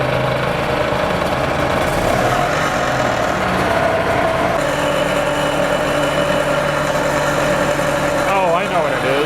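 A 2001 Yamaha G16 gas golf cart engine runs steadily at a fast idle, a constant close buzzing drone with a slight rattle throughout.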